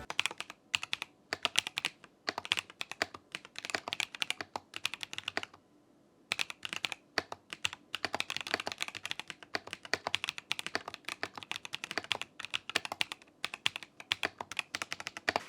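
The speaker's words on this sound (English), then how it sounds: "Let me type for you a little bit with a closer mic." Rapid, crisp clacking of keys typed close up, a continuous stream of keystrokes with one brief pause midway.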